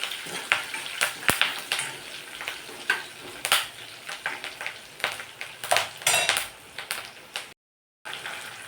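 Garlic sizzles in hot oil in an iron kadhai alongside a curry-leaf, cumin and mustard tempering, with crackling spits and metal stirring clinks throughout before a brief dropout near the end.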